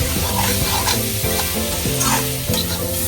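Potatoes fry in a pan while a spoon stirs them for a curry, loud steady sizzling with repeated scraping strokes at a quick, uneven rhythm.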